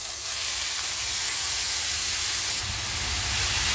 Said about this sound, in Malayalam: ഇതൊരു ഗോൾഡൻ ബ്രൗൺ കളർ ആകുന്ന വരെ നന്നായിട്ട് ഫ്രൈ ചെയ്തെടുക്കണം.